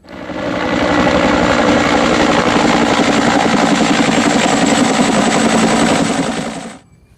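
Red toy helicopter running continuously, a steady rattling mechanical whir with a rapid buzzing motor pulse, loud and close, holding for about six seconds before cutting off.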